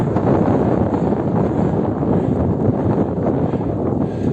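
Strong headwind buffets and rushes continuously at a cyclist climbing a 5% grade in Morocco, a loud blustery roar close up, with no voices.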